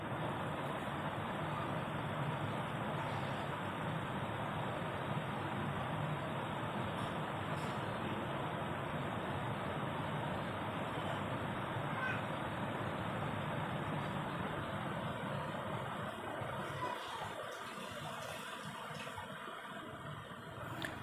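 A TVS XL 100 moped engine with a self-start fault idles steadily after starting, a faint, even mechanical drone running continuously with no speech, tapering slightly near the end.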